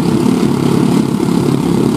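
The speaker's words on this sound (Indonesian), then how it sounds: "Dia menggas motornya hingga pol." A homemade helicopter built by a village youth in Jambi, its motor revved to full throttle, giving a steady, loud, close engine roar with a buzzing drone that holds without a break.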